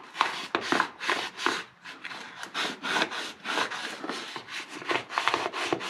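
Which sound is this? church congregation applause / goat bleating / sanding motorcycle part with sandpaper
sanding motorcycle part with sandpaper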